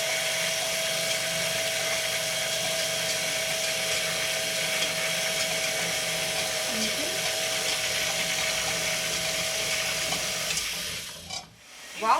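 An electric mixer whirs steadily as it combines bread dough ingredients, a constant high buzzing drone running for about eleven seconds before cutting off abruptly, with faint talk beneath.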